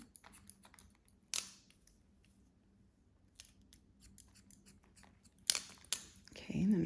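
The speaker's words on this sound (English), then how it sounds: "Same thing, point cut into that." Scissors point-cutting hair during a pixie cut, sharp snipping bursts scattered across the clip with quiet gaps between, a louder cluster of snips near the end.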